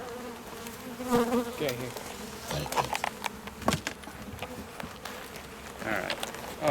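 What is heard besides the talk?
honey bees buzzing during a beehive inspection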